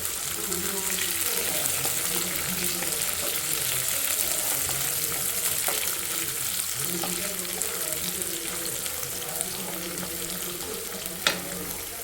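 Peanuts being stirred as they fry in a pan with ivy gourd for a crispy dondakaya fry: a steady, close sizzle with scraping stir strokes and occasional clinks, unbroken throughout.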